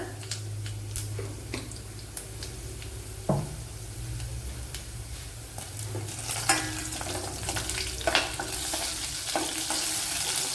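Quarter teaspoons of cumin and fenugreek seeds dropped into hot oil for a Kerala pineapple pulissery, crackling and sizzling steadily with scattered sharp pops and a few louder stirring clinks, no voices.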